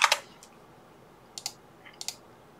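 Keys on a computer keyboard clack in a few sparse clusters of sharp taps, close and fairly crisp against a quiet room.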